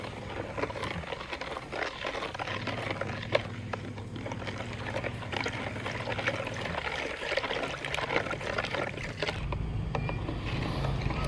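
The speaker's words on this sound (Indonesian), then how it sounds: "Kemudian kita aduk ya, biar dia larut. Diaduk terus sampai larut." MKP and NPK fertilizer is stirred into water to dissolve it, giving a steady sloshing, trickling swirl with faint scraping and clinking from the stirring, continuous and close.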